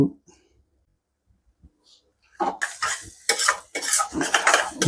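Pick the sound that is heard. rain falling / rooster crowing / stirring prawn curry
stirring prawn curry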